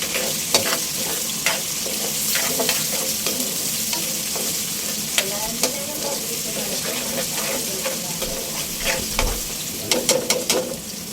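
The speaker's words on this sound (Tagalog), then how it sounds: "Gisa-gisa muna po natin yan." Onion and chili sauté in a pan for a Filipino papaitan, a continuous close sizzle broken by scraping stirs and small clatters of the utensil against the pan, with no talking.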